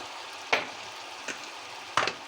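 Red pepper flakes roasting in a pan: a faint steady sizzle broken by three short, close bursts of frying as the pan is stirred, with no talk.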